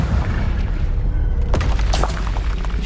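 Confringo blasting spell in Hogwarts Legacy erupts as a loud crack and boom midway, followed by scattered bright impact bursts over continuous heavy low rumble of combat.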